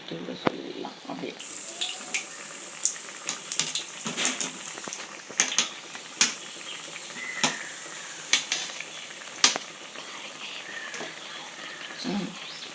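Bonda frying in oil makes a bubbling sizzle with sharp intermittent clicks and stirring knocks, close and moderately loud, with no voices.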